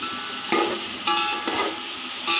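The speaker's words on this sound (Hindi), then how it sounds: "इसमें और अच्छी से इसकी भुनाई करेंगे।" Mutton masala with garlic-ginger paste and tomatoes fries in a pot with a steady close sizzle, broken by four sharp scraping stirs at roughly even intervals.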